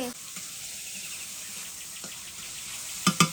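Food frying in a pan makes a low, steady sizzle throughout, with a faint tap partway through and two sharp utensil knocks near the end.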